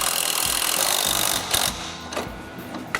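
Ratchet tightening a bolt on an MTD variable speed riding mower, a close series of quick metallic clicks and rattles that slows and thins into a few separate clicks, with no talk.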